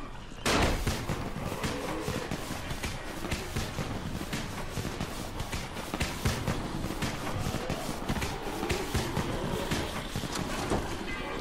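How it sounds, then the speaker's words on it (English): Firecrackers going off in the video game Dying Light 2: a dense, continuous run of sharp cracks and pops that lasts the whole stretch at a fairly even level, with no clear speech. "So, we're gonna throw firecrackers"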